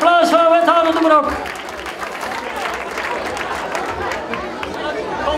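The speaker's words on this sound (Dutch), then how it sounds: "Een groot applaus voor wethouder de Brok" An audience at a youth carnival prince unveiling breaks into steady applause with cheering and chatter mixed in, following a brief spoken line at the start.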